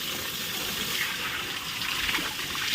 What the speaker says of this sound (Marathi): थंड पाणी भरपूर येत आहे ना स्पीडने